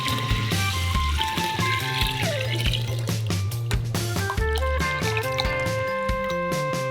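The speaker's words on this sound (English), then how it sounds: "now we'll dilute with cold filtered water up to the neck of the jar" Cold filtered water streams into a large jar as it fills toward the neck, a continuous pour with trickling and dripping detail, close and steady, a faint voice now and then underneath.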